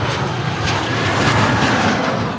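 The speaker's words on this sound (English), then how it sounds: "Yes, that was a Virgin 737" A Virgin Boeing 737 airliner passes with a steady, loud engine roar that holds through the whole moment, broad and continuous with no voices over it.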